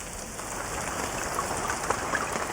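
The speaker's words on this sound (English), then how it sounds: "it's now raining cats and dogs on our archaeologists in Trench 1." Heavy rain pours steadily over an archaeological excavation trench, a dense, constant hiss of drops hitting the ground close by with no voices.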